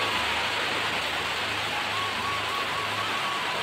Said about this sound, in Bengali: অনেক বৃষ্টি করছে এখন।